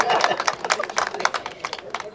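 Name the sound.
audience clapping at a Bhojpuri film music launch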